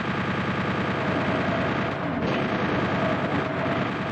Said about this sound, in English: I decided to shoot that barrel